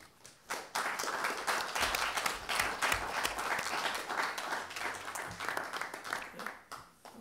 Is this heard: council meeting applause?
yes